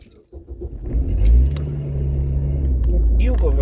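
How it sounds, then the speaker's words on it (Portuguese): A car engine dies and then turns over and restarts at a traffic light, its low rumble dropping out briefly before a steady idle resumes close by, with a voice talking over it. "Meu carro morreu, deixei passar o farol."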